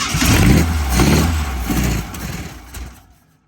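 A 1967 VW Beetle engine with a mystery motor installed cranks and runs in rough, pulsing bursts, loud and close, before quickly dying away into silence.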